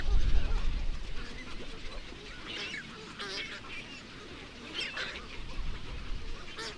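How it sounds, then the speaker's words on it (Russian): Eurasian spoonbill chicks squealing thinly as they beg parents for food at Lake Manych-Gudilo in Kalmykia, a scattered chorus of high cries rising in bursts over a low background of other waterbird calls, without talk. "Колпицы исключительно молчаливы, и только птенцы тонко верещат,"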